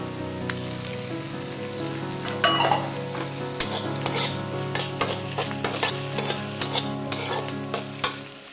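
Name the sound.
chicken strips stir-frying in a pan for fried rice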